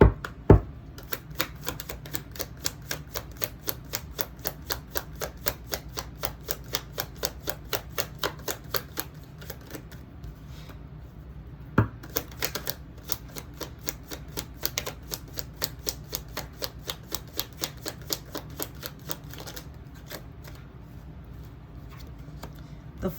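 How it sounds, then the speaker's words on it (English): A deck of tarot cards is shuffled in a long run of crisp, rapid clicking riffles at a steady pace, close and clear, briefly pausing about halfway before resuming, with no talk. "I don't think the cards were quite ready that time, so we're going to shuffle again."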